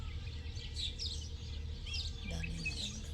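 Birds chirp in trees on a farm, a few faint, scattered tweets over a soft outdoor background hum, distant and brief.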